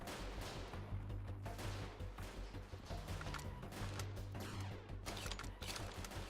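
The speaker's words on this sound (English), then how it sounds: "Ooh, the reloading." Weapon reloading in Freeman: Guerrilla Warfare, with a dense run of mechanical clicks and clacks and distant gunfire rattling over a steady low hum, fairly quiet and with no voices.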